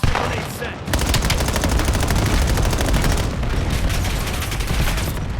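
Rapid automatic gunfire in Call of Duty: Black Ops 7, a loud, dense, continuous rattle of shots that starts after a brief opening burst and runs nearly without pause, close up.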